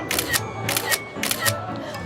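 A phone camera shutter fires three times at a theme park, sharp evenly spaced clicks about half a second apart over a low background murmur.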